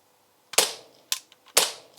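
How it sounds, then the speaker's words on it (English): Umarex Glock 17 Gen 5 replica pistol dry firing, its slide cycling with three sharp, close mechanical snaps about half a second apart, each followed by a short metallic rattle, with no voices. "This is a safe dry fire, by the way."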